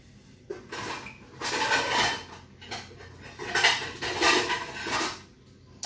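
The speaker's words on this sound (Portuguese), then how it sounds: "eu vou até pegar uma frigideirinha menor" A small frying pan being picked up and handled, with a run of metallic clanks and knocks against other cookware and a stovetop, loud and close, and no talking.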